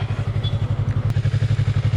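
A Yamaha R3 motorcycle being ridden, its engine giving a steady, rapid low pulsing throb that stays loud and close throughout, with faint wind noise and no talking.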